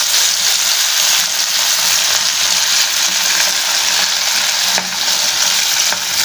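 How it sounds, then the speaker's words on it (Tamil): Pieces of pomfret (vaaval) fish sizzle steadily in hot oil, a loud continuous frying hiss with brief crackles and a short stir near the end, no voices. "இப்போ ஒரு பீஸை போட்டலாம். எண்ணெய் சூடாகிடுச்சு."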